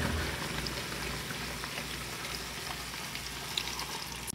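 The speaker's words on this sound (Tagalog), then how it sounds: "Tapos ibuhos lang natin yung ating pinagbabaran kanina." Pork and chicken with their marinade poured into a hot pot for a tomato stew, giving a dense, steady sizzling crackle with a faint splash near the end.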